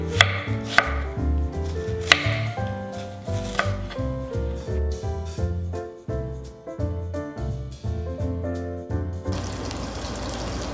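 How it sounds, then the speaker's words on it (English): A knife chops vegetables for a French Christmas chestnut soup in a home kitchen. Steady, evenly spaced cuts knock against a board over a tonal background, and a short rush of running water comes near the end. "to cut them all about the same size"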